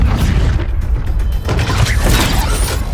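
A mechanical arm cannon deploys in the Injustice 2 video game, giving a loud, dense run of clanking, whirring machinery and metallic creaks that continues for the whole stretch.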